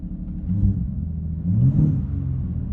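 A tuned 2024 Ford F-150 Raptor engine revs lightly on the throttle, a low rumbling swell that rises twice, heard from inside the cabin with no talking.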